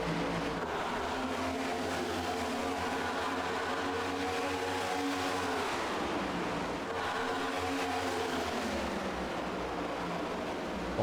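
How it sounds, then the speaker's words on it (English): Race cars roar down a backstretch in a tight pack, a loud continuous engine drone with rising and falling pitches as they pass, no speech over it. "stuck together right now as they roar down the backstretch"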